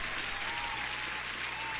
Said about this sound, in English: You deserve the applause as well.